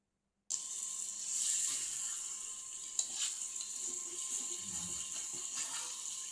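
Duck meat being stir-fried for kala bhuna gives off a steady, close sizzle, with occasional scraping from stirring, after a brief silent start.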